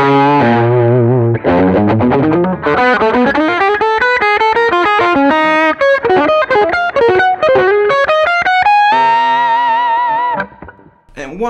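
An electric guitar with a rock overdrive tone plays in a jazz fusion style: a loud, distorted run of single notes and chords that stays continuous and ends with a few quieter plucks.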